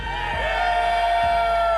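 A crowd at a Clash of Clans esports world championship cheering and whooping for NAVI, a short loud sustained roar that stays steady to the end.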